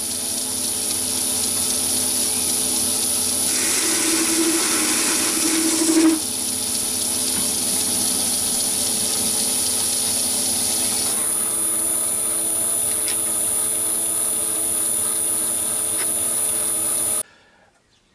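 A metal lathe turning a stainless steel Myford draw-bar held in a collet chuck, a steady whirring drone with a high whine and a brief scraping cut near the start, running alone until it stops abruptly at the end.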